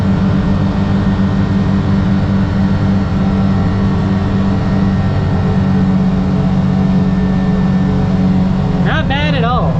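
A 2025 Kawasaki Ridge Crew utility vehicle drives up to speed with its engine close and loud, droning steadily throughout. Someone talks over the engine noise.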